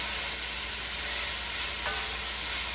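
A spoon scrapes and stirs softened onions in a pot while preparing a beef stew, with a steady close sizzle throughout and no talking.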